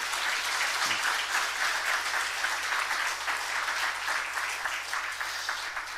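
Steady applause from a church congregation during a Sunday service, a dense wash of clapping that holds evenly for several seconds without voices.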